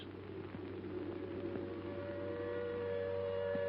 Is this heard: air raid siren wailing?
yes